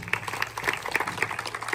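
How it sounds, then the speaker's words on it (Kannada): Audience applause for actor-director Rishab Shetty at a Kantara Chapter 1 premiere in Dubai, a crowd clapping steadily at moderate distance, with distinct individual claps audible throughout. "ಚಪ್ಪಾಳೆ."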